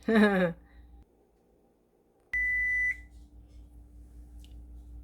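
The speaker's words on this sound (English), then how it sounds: "our timer has ended up, so I have to cancel it" A kitchen oven timer sounds a single loud electronic beep lasting about half a second at the end of baking, following a brief spoken word, then quiet room hum.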